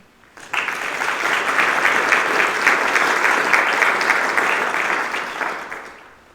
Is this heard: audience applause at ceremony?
yes